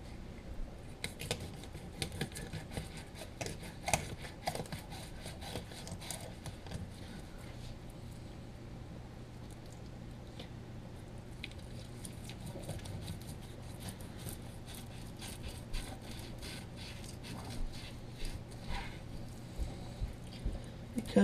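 Fillet knife slicing through a large perch, heard as soft wet squishing, scraping and small clicking cuts throughout, up close over a steady low hum.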